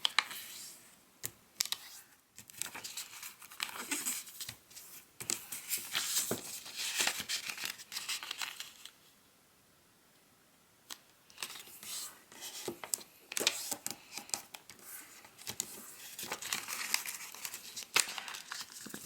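Paper being folded for an origami bat, with close crinkling, creasing and sharp rustling taps in busy bursts, broken by a few seconds of near silence in the middle before the folding sounds resume.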